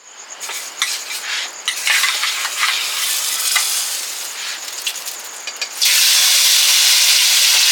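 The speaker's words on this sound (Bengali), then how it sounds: "বেশি দেরি করবো না এক্ষুনি ভেজে নেবো" Snakehead fish fries in oil at an outdoor picnic, giving a loud, continuous sizzle with intermittent stirring and scraping, then swelling into a stronger, even hiss near the end.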